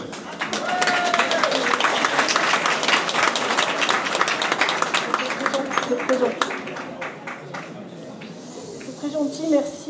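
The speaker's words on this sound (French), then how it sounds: "je demande d'abord de l'applaudir" An audience bursts into applause, a loud, dense patter of many hands that swells then tapers, with voices and someone speaking over the fading claps.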